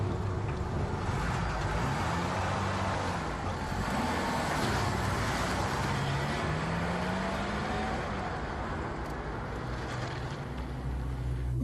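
A stolen car drives off after a crime reenactment, its engine rumbling steadily and rising and falling in pitch under broad road noise, fairly close and continuous throughout.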